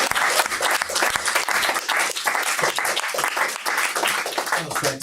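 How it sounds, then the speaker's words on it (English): An audience breaks into sustained, dense applause, many hands clapping loudly and continuously with a voice briefly heard amid it. "Please, applause."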